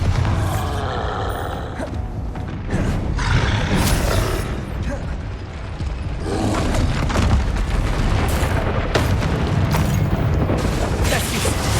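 Bombarda spell blasts in Hogwarts Legacy, several booming bursts with rumbling crashes and debris clatter in an irregular rhythm amid other spell effects, loud and close.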